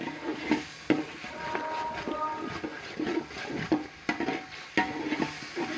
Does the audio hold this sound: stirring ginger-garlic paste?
yes